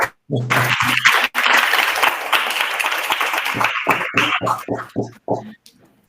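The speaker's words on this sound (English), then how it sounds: "Yeah, now we can applaud." Clapping from people at an academic PhD school session, loud and dense but broken by short gaps and a spoken voice over the last few seconds.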